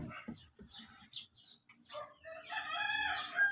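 A sick native backyard chicken vocalizes in short, harsh bursts close by, with brief clucking notes and a drawn-out squawk toward the end.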